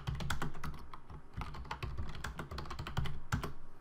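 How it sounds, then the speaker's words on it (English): Fast typing on a computer keyboard in a Word document, with dense, close keystroke clicks coming in quick bursts and short pauses and no speech. "I'm just going to go ahead and type a couple of more lines."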